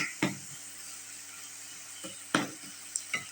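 Ridge gourd and tomato sautéing in a pan for kara kuzhambu: a quiet steady sizzle broken by a few sharp scrapes and clinks of a spoon stirring against the pan.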